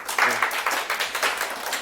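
Brief burst of clapping from a small audience at a lecture, a quick patter of individual claps that starts strongly and thins out within two seconds.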